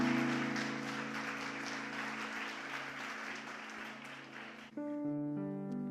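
Congregation applauding in church, a steady wash of clapping under sustained organ or keyboard chords, the clapping fading as the music shifts to a new chord near the end.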